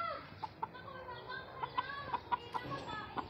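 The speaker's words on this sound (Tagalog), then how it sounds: "Nakakita lang tayo dito ng magandang manok, isang tandang at dalawang dumalaga." Chickens cluck in short, scattered bursts close by, over a soft background hum with a little faint talk.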